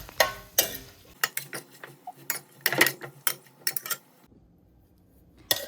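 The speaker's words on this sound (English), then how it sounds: "Give them a stir." Cooked green beans are stirred in a skillet, giving a cluster of close clinks and scrapes of a utensil against the pan, bunched in short bursts and then falling quiet near the end.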